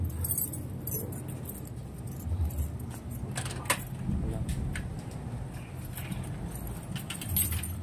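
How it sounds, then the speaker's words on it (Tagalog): Keys jangle and clink repeatedly while someone unlocks a door to go inside, with a car and traffic rumbling steadily in the background and a voice speaking now and then. "May susi ako dito. Kapapasok ako."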